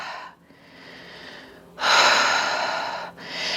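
Deep yoga breaths are drawn in and pushed out through the nose and mouth: a quieter airy inhale, then a louder, longer rushing exhale, a brief pause, and another breath starting, all very close.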